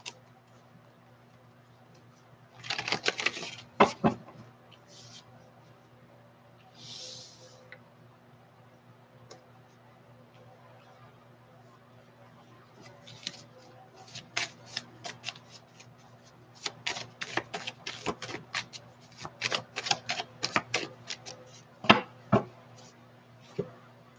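Tarot cards being shuffled and pulled during a reading, heard as bursts of quick papery riffles and sharp clicks, one early flurry and then a busier run of snapping taps, close and fairly quiet over a steady low hum.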